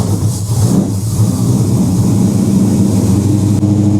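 A Ford XW with a 351 Cleveland V8 and a Holley carburettor idles inside a shed, a loud, close, steady low rumble with a constant throb.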